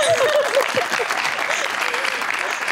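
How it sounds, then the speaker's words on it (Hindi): Audience applause on a live talk show, a broad, steady burst of clapping from a studio crowd, with a voice talking briefly over its opening. "तालियां"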